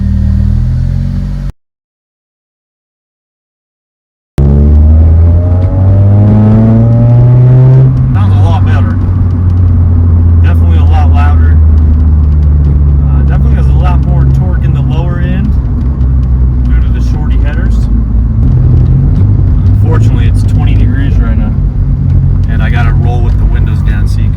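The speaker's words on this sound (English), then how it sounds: "This is after the catalytic or Catback exhaust with the custom headers." A Honda Civic engine with shorty headers and a catback exhaust idles and revs with a deep exhaust rumble, rising and falling in pitch, loud and close, after a brief silence.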